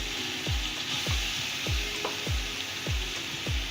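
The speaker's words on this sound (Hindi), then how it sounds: "हमारे प्याज और लहसुन अच्छे से फ्राई हो चुका है। अब हम इसमें डालेंगे टमाटो पेस्ट" Onion and garlic sizzle in a pan as tomato paste goes in, a steady low frying hiss broken by regular soft scraping strokes of a spoon, close and fairly quiet.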